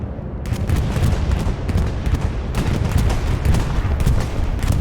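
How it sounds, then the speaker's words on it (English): An airstrike in a competitive multiplayer war video game brings a continuous roar of bomb explosions and rumbling blasts, loud and dense, sustained with sharper bursts cutting through. "We're seeing a bombing run coming in."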